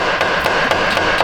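Steel hammer whacking the front CV axle of a Ford EcoSport, about five quick sharp metallic taps in a little over a second, close and fairly loud with no talk.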